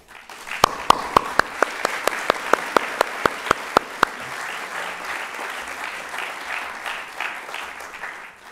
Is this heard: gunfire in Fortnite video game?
no